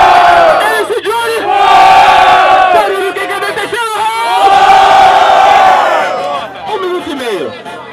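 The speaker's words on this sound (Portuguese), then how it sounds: "Barulho que gostou da rima do freestyle do MC Johnny" Crowd at a funk freestyle rap battle in São Gonçalo roars and chants loudly in repeated waves, with whoops and shouted cries over a dense, close wall of voices.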